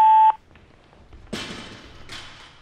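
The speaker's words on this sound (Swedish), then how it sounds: "Lämna ett meddelande efter pipet." A single short electronic voicemail beep sounds clearly at the start, a steady pure tone lasting a fraction of a second, followed by near silence with a couple of soft thumps and rustles.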